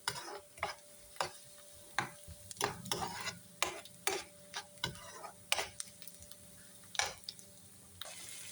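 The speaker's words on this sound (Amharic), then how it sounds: "በሸመል ብዙ ሽንኩርት እያቆላላን ነው።" A large amount of onions sautéing in a pan gives off a steady low sizzle, broken by sharp, irregular scrapes and clacks from stirring at close range.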